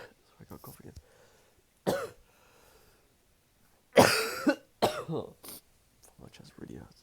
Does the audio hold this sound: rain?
no